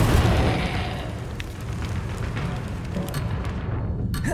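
Fiery spell blast from Incendio cast in Hogwarts Legacy, a loud roaring burst at the start that settles into a sustained crackling, rumbling flame with faint sharp pops near the end.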